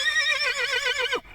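A black Kyrgyz horse gives a single loud, close whinny, its wavering call lasting about a second before cutting off sharply into near silence.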